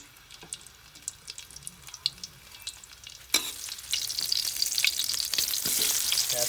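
Garlic hits hot oil in a pan and a steady sizzle swells and holds, preceded by a few light scrapes and clicks of stirring before the frying starts.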